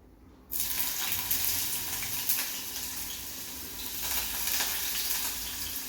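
Onion going into cold-pressed coconut oil in a small pressure cooker sizzles loudly and steadily for several seconds right after a quiet start, with no talking.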